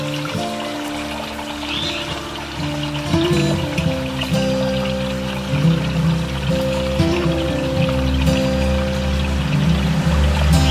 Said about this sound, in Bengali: দেখো শুরু হয়ে গেছে মিটু স্নান করতে